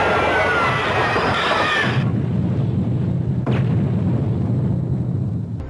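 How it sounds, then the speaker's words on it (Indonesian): A loud, roaring explosion with a dense rumbling blast that settles into a heavy low rumble, followed by a second sharp burst. "Makhluk-makhluk bawaannya pun ikut terpelanting dan kemudian mereka meledak dahsyat"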